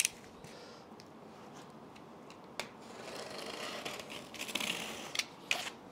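Packaging for a JBL 4349 studio monitor speaker being unboxed, with close, quiet rustling, rubbing and snipping of cardboard and wrapping, plus a few sharper clicks and tears scattered throughout.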